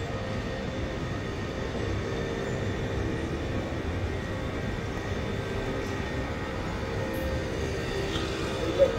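A mini train rolls through a shopping mall, giving a steady, even rumble with a faint hum that holds constant throughout and stays fairly loud and close, with no speech.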